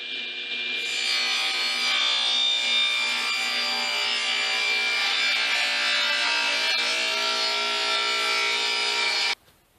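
A power saw ripping a panel of five pieces of wood glued together lengthwise at about 11.5 inches, giving a loud, steady whining cut that runs unbroken for nearly ten seconds before stopping abruptly, with no talk.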